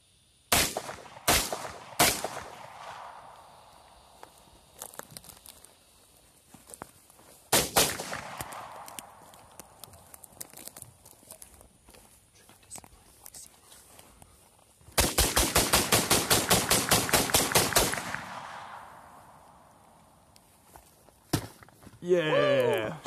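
CZ Scorpion firing outdoors: sharp single shots and short bursts, then one long rapid string near the middle, loud and close with ringing decay between volleys, with people talking in the pauses.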